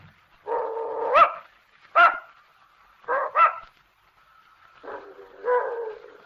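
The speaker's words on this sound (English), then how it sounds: "I don't believe your dog likes me" An old dog lets out several short barks and whimpering yips in bursts, close and fairly loud, with quiet pauses between them in an old radio drama.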